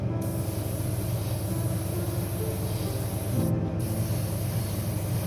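A small airbrush with a 0.2 nozzle sprays paint onto the spoilers of a Hoonicorn Ford Mustang scale model, a continuous close hiss with a brief pause partway through.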